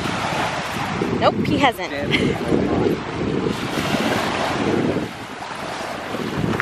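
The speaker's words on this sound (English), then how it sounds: "I don't think he's seen waves before." Ocean waves roll and wash onto a windy beach in a steady broadband roar, with gusts buffeting the microphone; a person speaks briefly over the surf.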